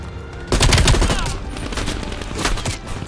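Rapid gunfire in Call of Duty Black Ops Cold War, a burst of game shots starting loud and close after a quiet lead-in, then continuing in dense overlapping volleys with no talk.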